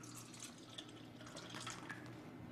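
Kangen water, from a water ionizer, pours in a continuous close trickle with a few drips, alone and fairly quiet.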